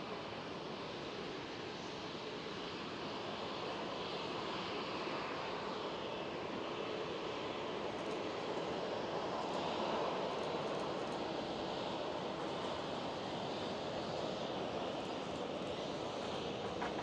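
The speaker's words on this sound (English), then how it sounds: "Now the Transavia Airbus" Transavia Airbus A321neo jet at Schiphol airport in Amsterdam, a steady broadband engine roar that holds at a constant loudness for the whole stretch, moderately distant, with no voices.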